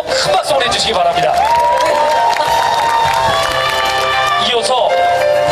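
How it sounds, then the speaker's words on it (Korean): A crowd at the opening ceremony of a ginseng festival claps and cheers loudly outdoors, shouts and a sustained tone from a sound system layered over the applause. "우리 조합장님께 다시 한번 큰 박수 보내주시기 바랍니다."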